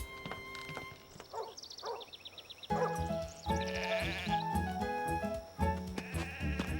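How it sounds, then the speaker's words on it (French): Several sheep bleat in quavering calls, first sparse and thin, then a louder stretch of overlapping bleats with some thumping and clatter beneath. "Des moutons?"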